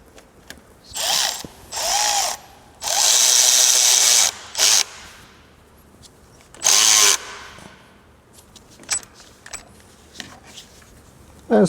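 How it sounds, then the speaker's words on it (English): A power tool tightens the engine belt on a Toyota Altezza, with several loud whirring ratchet bursts of varying length, one long and steady, separated by quiet gaps with faint workshop clinks. "Let's tighten this belt."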